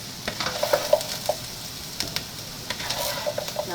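Sausage and hotdog sizzle in a frying pan with a soft, steady crackle. Light scraping and tapping from stirring is heard close by.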